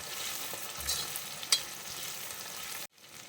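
Green chillies sizzle and crackle steadily as they fry in oil for beef pickle, with a couple of sharp pops and a stirring scrape before it abruptly cuts off.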